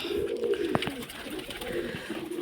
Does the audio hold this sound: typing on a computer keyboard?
no